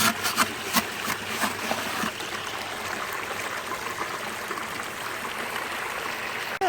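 Water rushes and splashes steadily through a gold sluice with a dream mat, a continuous close trickling flow with a few sharper splashes near the start.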